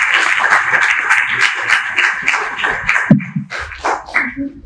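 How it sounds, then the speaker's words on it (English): Applause from a lecture audience fills the room as a steady crowd clap, then breaks into scattered, fading claps toward the end. "So please give her a round of applause."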